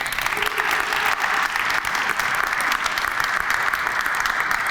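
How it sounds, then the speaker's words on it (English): Audience applause at a community benefits ordinance and memorandum of understanding signing: dense, steady clapping from a crowd that stays loud and even throughout. "You all deserve to give yourself a round of applause if you could."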